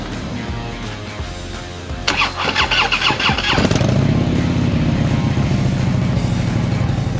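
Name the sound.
motorcycle engine starting up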